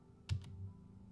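A single soft computer keyboard keystroke followed by a second quieter tap, close and faint against a low steady hum, with no talking.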